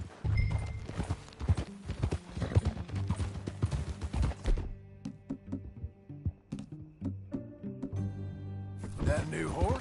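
Horse hooves clip-clop in a steady rhythm in the video game Red Dead Redemption 2, close and clear, while people talk over them; the hoofbeats thin out briefly midway.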